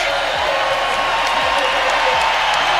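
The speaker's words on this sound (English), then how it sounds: "Get an ovation from this crowd." An arena crowd at a Nuggets vs Clippers Game 7 basketball game gives a sustained ovation. The dense roar of cheering and applause holds steady at high volume while a commentator talks over it.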